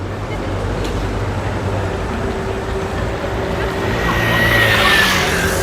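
A bus rolling along a street shared with pedestrians in a small Belgian city, a low engine rumble growing louder toward the end with a brief whine of brakes, amid general street noise.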